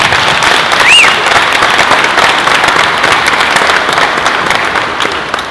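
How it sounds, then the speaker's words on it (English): A press conference audience gives loud, sustained applause welcoming a new university women's basketball coach, a dense wash of clapping that fades slightly toward the end. "Round of applause."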